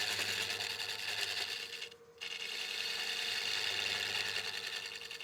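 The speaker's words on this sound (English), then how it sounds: "if you hear a lot of weird noises, that means the chuck doesn't like the force being put on it" A wood lathe turning a partially seasoned bowl with the chuck under strain, giving a steady, loud whirring drone with a rhythmic grinding chatter that briefly drops away mid-way before resuming.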